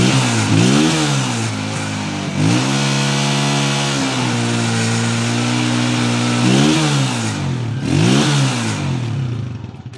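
A Honda TMX155 motorcycle engine being revved during electrical work, loud and close, rising and falling through several throttle blips over a steady idle with no talk.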